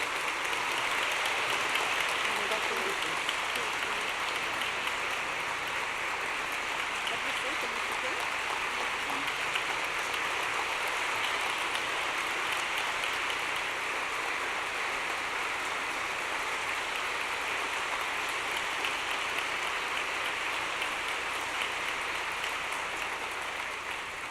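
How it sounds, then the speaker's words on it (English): An audience at the 25th Courage in Journalism Awards in New York gives sustained applause for an award recipient, a dense, even wash of clapping that holds steady for over twenty seconds and tapers slightly at the end. "Merci pour ces applaudissements."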